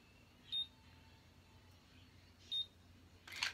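A Conair Infinity automatic hair curler gives two short, high electronic beeps about two seconds apart, close and clear, followed by a brief burst of rustling at the end.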